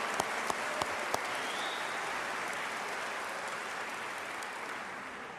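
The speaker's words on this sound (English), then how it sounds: "We can clap for that." A crowd at a high school commencement ceremony applauds, a broad, even hiss of many hands clapping that stays steady and slightly distant, with a few louder individual claps near the start.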